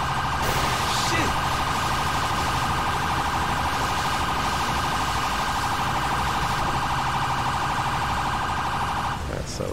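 A stuck-on siren from a modded Paleto Bay fire engine in GTA 5 drones without pause, a constant electronic tone that stays loud and unbroken from start to finish.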